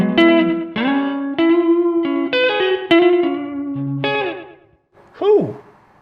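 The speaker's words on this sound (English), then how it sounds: "we're gonna just hear what this guitar sounds like clean" A Fender Player Plus Telecaster electric guitar on its neck pickup, played clean: a run of ringing picked notes and chords, loud and close, ending with a bent note that swoops up and down.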